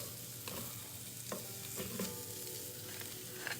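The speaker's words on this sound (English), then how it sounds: "Now I'm going to add in my onions" Onions go into a hot pan for chicken curry, giving a low, steady sizzle with faint stirring taps, quiet and continuous without speech.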